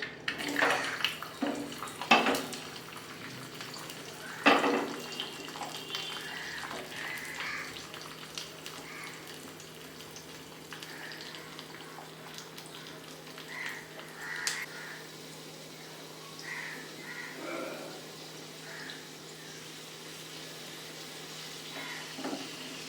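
Cashews and raisins fry in ghee in a small ladle for Bengali payesh, giving a soft, steady crackling sizzle with a few sharp pops early on, fairly quiet and close.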